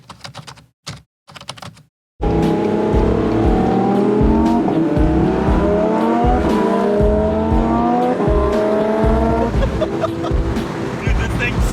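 McLaren 720S sports car accelerating hard, loud engine note rising through the revs in repeated gear sweeps as the turbos come on, following brief talk at the start.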